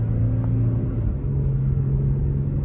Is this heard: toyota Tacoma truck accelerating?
yes